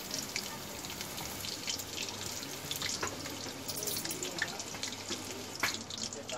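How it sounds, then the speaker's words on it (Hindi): Chicken pieces frying in oil over a low flame for a Konkan-style dry chicken fry, a continuous soft hiss and crackle with scattered pops throughout. "देखिए फ्राई हो रहा है, हम इसे लो फ्लेम में फ्राई होने देंगे"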